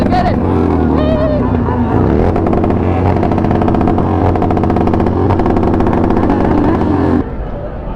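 A Yamaha YZ450 dirt bike at a gas station in Miami blares close and loud, its engine buzzing and rising in pitch over chatter and other engines before dropping off near the end.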